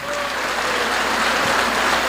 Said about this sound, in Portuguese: aplauda a Deus